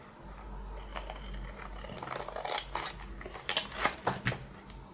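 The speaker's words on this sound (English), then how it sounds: "So here is where my big scissors come in handy. I really love those. They make cutting, especially like straight lines," Large scissors snip through paper for a spring boho junk journal with altered envelopes, a series of close, crisp cutting strokes that grow sharper and more frequent toward the end, with no talking.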